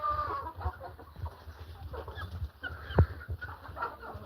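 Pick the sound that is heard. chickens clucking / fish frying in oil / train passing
chickens clucking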